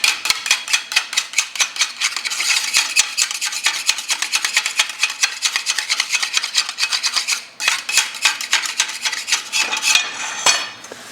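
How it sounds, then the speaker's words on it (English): A heavy putty knife chips and scrapes slag and dross off the back edge of plasma-cut metal parts, a fast run of close, loud rasping strokes with a brief pause before the scraping resumes. "it does leave a little bit of slag or dross on the back edge that you need to chip off"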